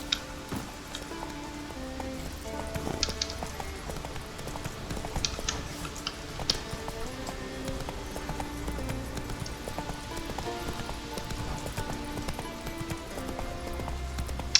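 Roach the horse trotting in The Witcher 3 video game, a steady clip-clop of hooves running throughout under game music and faint rain, moderately close.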